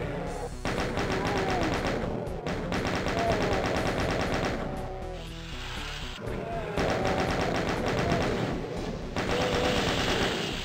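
Rapid sustained chaingun fire from the video game The Ultimate Doom, loud and continuous in long bursts with brief pauses, mixed with other game sounds and no talk.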